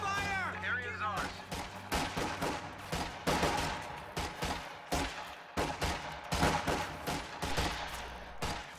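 Gunfire rattles through a battle in a strategy war game, with repeated bursts and shots cracking over a dense layer of combat noise, while voices talk over the action throughout.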